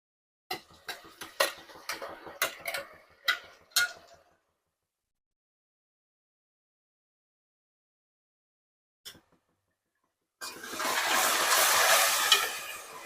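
Ground mint-coriander masala frying in oil while being stirred for egg biryani: a run of sharp utensil scrapes and clinks, a quiet pause, then a steady close sizzling hiss near the end.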